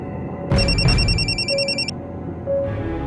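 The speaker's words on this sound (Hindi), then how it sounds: "देखो भैरव का फोन होगा।" A telephone rings with a bright electronic trill that lasts about a second and a half, loud and close, then drops away, leaving a quiet room with a faint background tone.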